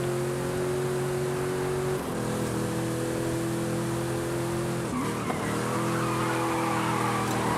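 Sustained engine roar of a 450-horsepower car accelerating in Forza Horizon 5, loud and steady with a harmonic drone, a brief dip near the five-second mark as it shifts or slides, then pulling on.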